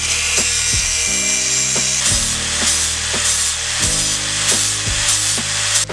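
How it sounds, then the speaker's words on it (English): An angle grinder works a metal mobility scooter part down for torque converter clearance, a loud steady whine broken by rhythmic strokes against the workpiece, with no talk. "us grind it down a little bit right here because it wasn't clearing"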